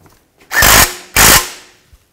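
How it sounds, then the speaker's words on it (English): A power tool, likely an impact driver, tightens a bolt under the hood of a 2007-2016 Chevy Traverse in two short, loud whirring bursts separated by a brief pause, close up with no talking. "Now tighten this bolt down"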